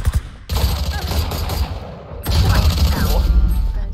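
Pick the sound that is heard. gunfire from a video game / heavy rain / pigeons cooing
gunfire from a video game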